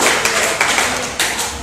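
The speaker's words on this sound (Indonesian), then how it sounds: "kita kasih aplaus untuk kelompok" Audience applause for a presenting group in a classroom setting, a brief burst of clapping with several sharp claps over steady patter, fairly close and alone without talk.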